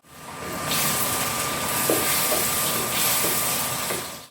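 Tomato paste hitting a hot pan of browned onions and garlic for a bolognese sauce, giving a steady close sizzling hiss that holds evenly throughout with a few soft stirring knocks.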